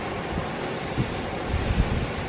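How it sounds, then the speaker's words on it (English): Strong wind buffets the microphone at a Cornwall holiday cottage, a steady rough roar with a few brief gusts, and no one speaks. "Wind, go away. Just go away."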